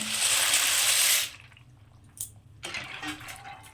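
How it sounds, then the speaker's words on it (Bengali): Pasta goes into a pot of water with a little oil for boiling: a loud close rush of water for about a second, then quiet, a sharp splash and a softer wet sloshing. "এবার আমি পাস্তাগুলোকে দিয়ে দেবো এটার মধ্যে সেদ্ধ করার জন্য"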